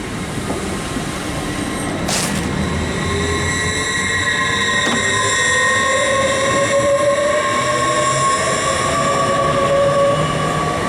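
An LNER class 801 train pulls out of Grantham station, its electric motors whining in rising tones while the wheels rumble steadily, loud and close throughout, with no voices.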